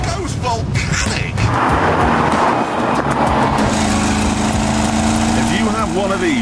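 A Jaguar XK Convertible's engine is worked hard under full-throttle acceleration, a loud rising roar and rasp lasting several seconds, with a voice talking over it.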